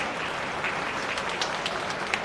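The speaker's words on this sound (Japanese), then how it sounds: "受賞者の皆様方に今一度大きな拍手をお願い申し上げます" An audience applauds the award winners at the Select Sale 2015 horse auction opening ceremony, giving steady, even clapping that fills the room at moderate volume, with no voices on top.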